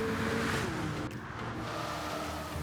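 Race cars in Gran Turismo 7 roaring along an oval track's straight at very high speed, a sustained engine whine with a pitch shift as a car passes, moderately quiet and free of talk.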